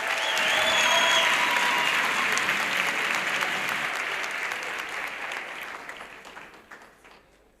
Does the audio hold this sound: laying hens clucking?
no